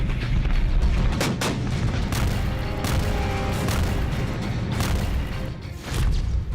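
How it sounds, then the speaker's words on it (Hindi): Heavy explosions from phosphorus bombs falling in Nagorno-Karabakh, a loud, dense barrage of booms and cracks rumbling continuously with repeated sharp blasts. "फास्फोरस बम का इस्तेमाल कर रहा अजरबैजान। नागोर्नो काराबाख में गिरा फास्फोरस बम।"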